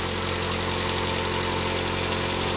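A Mazda 626 engine idles after a starter replacement, a steady, even rumble close by that stays constant throughout with no talk.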